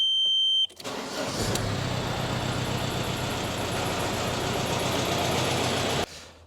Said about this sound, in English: the car started easier than in a long time